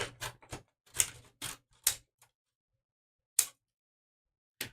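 Scissors snipping paper during collage work with layered prints, a run of short crisp cuts in quick succession, then two isolated snips after a pause, close and quiet.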